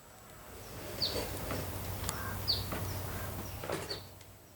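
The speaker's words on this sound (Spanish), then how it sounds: "Está el pajarito que está cantando ahí en el fondo." A small bird sings in the background outdoors, faint and distant, with a few brief high chirps spaced a second or so apart over a steady low hum.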